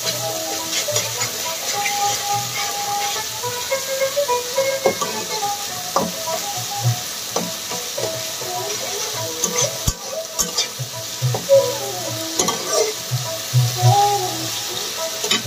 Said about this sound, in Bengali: আদা রসুন দিয়ে সুন্দর করে কষিয়ে নিতে হবে।